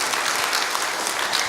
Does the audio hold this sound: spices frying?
no